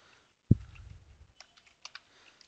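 Keys tapped on a computer keyboard while CSS code is written: one sharp near click, then a sparse, irregular run of quiet, light keystrokes in a quiet room.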